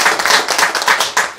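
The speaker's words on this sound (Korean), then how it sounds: "우리 한번 박수 쳐드리겠습니다" A church congregation claps briefly in a quick, even rhythm for members' birthdays, close and loud, with several distinct beats over about a second and a half.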